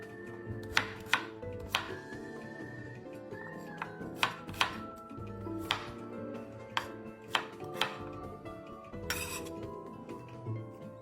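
A knife chops shallots on a board in irregular, sharp, close taps, some louder than others, with occasional small clinks in between and no talk.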